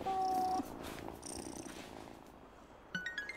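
A cat in the farming video game Wylde Flowers gives a soft game-audio purr with a sustained tonal note at first, followed by quiet ambience and a few faint chiming effects near the end.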